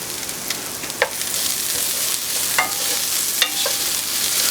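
Garlic sizzles steadily in a hot pan, a bright continuous frying hiss punctuated by a few clinks and scrapes of stirring, with no talking.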